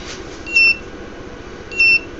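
An electronic buzzer wired to an ESP32 board sounds two short, identical high-pitched beeps about a second apart, clear and close over a low background hum, with no talking.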